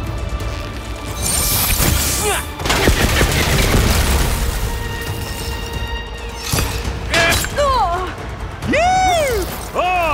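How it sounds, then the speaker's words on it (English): Shots strike the couplings on a machine's stem in the video game Horizon Forbidden West, loud repeated crashing impacts and bursts of fire, mixed with metallic mechanical whines and game effects. "I gotta shoot the couplings in the stem."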